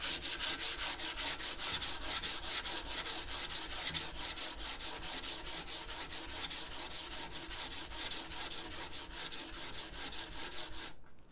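Sandpaper wrapped around a wooden block rubbed by hand over furniture, a close, loud rhythmic scratching in quick even back-and-forth strokes, steady throughout and stopping abruptly at the end.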